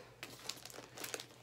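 Magazines are pulled out of a crinkly plastic-wrapped stash, giving a short burst of soft crinkling and rustling, close and fairly quiet, with no talking.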